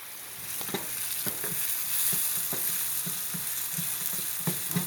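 Sausage and onions fry in a pan for sausage gravy, a steady close sizzle with regular scraping stirs of a utensil running through it, no voices.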